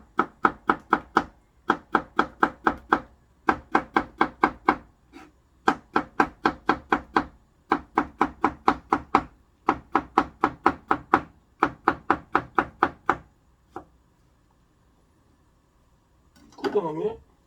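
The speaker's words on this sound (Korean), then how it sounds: "요렇게 그 요리사 수준 칼질 아니겠습니까?" A kitchen knife chops ingredients for Korean doenjang soup on a cutting board in fast, even bursts of rapid strokes separated by short pauses, close and crisp, followed by a brief rustle at the end.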